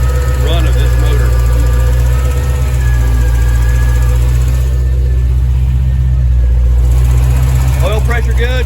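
A Paxton supercharged ZZ3 5.7 small-block in a C4 Corvette with TPI and an Edelbrock intake idles loudly on its first start, with a steady deep rumble, whine and ticking on top, and voices talking over it.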